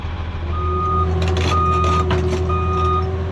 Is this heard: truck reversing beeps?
yes